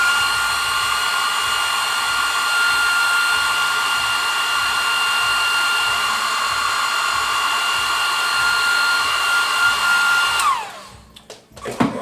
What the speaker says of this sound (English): Let me just blow it with the hairdryer for a quick second.